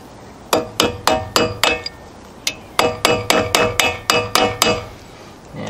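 A cotter pin tapped into a minibike bolt with a hammer: two runs of sharp metallic strikes, five blows then a pause and ten more, close and distinct.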